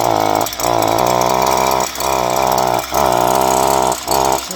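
String trimmer engine running rough and stalling, its high buzzing whine repeatedly dropping out in brief dips about once a second, loud and close.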